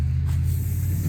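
Spray paint hisses steadily from a can onto a plastic accent table, a continuous close spray lasting about a second under a low background rumble.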